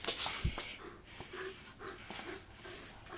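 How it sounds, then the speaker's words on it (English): A pet dog breathing heavily and panting close by indoors, quick rough breaths with a few snorts and faint whimpering, loud and near. "You're breathing very loudly."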